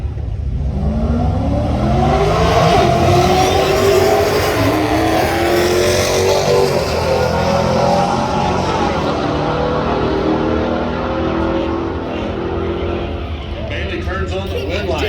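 Street cars drag race down a strip at US131 Motorsports Park, their engines roaring loud and sustained as they accelerate hard from near to fading, with an announcer talking over the din.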